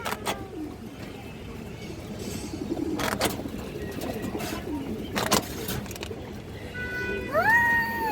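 A female pigeon coos in low, throaty bursts among other birds at a pigeon market, with a cat-like meow or rising calls near the end and faint voices in the background.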